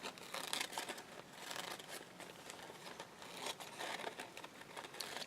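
Scissors cutting through a paper coffee filter: soft, faint crinkly snips and rustles in quick irregular bursts, close up, with no talking.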